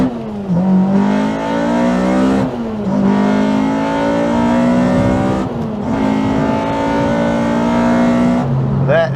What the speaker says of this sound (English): Let's see what the almighty K24 sounds like.